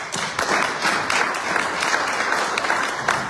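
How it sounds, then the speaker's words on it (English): A crowd claps continuously in sustained applause, dense and fairly close, with no voices standing out. "So let's give a round of applause."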